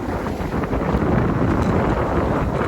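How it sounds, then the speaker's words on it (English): Strong, steady wind of about 16 knots blows across a sailboat at sea off the Welsh coast, heard as a loud, continuous rushing roar buffeting the microphone, with no voices. "Got 16 knots of wind on the port beam and heading over to Tenby."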